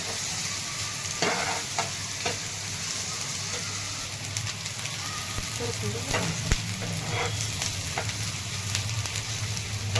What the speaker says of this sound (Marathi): असा गोल्डन कलरवर छान असा परतून द्यायचा कांदा.